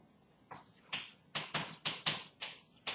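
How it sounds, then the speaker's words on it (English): Chalk or marker writing on a board during a math lecture: sharp, evenly spaced taps and strokes, about seven in three seconds, close and clear against a quiet room with no talking. "so let me write that down"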